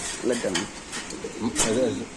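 Checker pied racing pigeons coo in soft, repeated rolling calls at close range, with a busy market-like background and some voices nearby.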